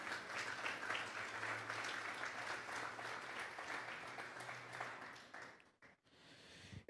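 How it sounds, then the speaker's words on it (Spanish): A church congregation at a Sunday service claps together in sustained, dense applause, fairly distant and even for about five seconds, then fading out into near silence with a faint rustle at the end. "Vamos a darle un fuerte aplauso pues al Señor."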